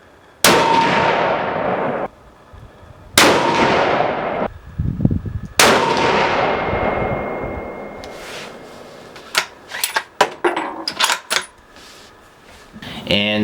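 A Ruger American hunting rifle fires three loud, sharp shots a few seconds apart, each followed by a long echoing decay outdoors. Metallic clinks of bolt cycling and handling come after them, and a voice is heard partway through.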